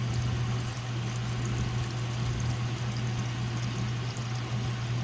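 White gas fuel splashes and pours steadily while a vintage Coleman lantern is being filled, a continuous close liquid gush over a low steady hum, with no talking.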